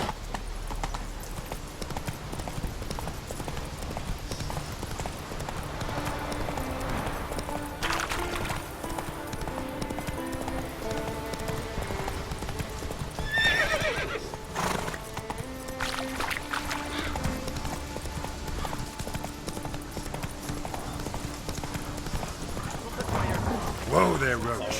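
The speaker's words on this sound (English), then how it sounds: "Whoa there, Roach." Rhythmic clip-clop of galloping hooves runs throughout from a horse in The Witcher 3 video game, with game sounds and a voice speaking over the hoofbeats.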